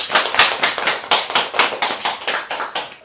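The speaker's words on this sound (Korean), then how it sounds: "하나님께 영광을 박수하였습니다." A church congregation claps in unison, sharp rhythmic hand claps at a steady brisk pace, close and fairly loud with no talking.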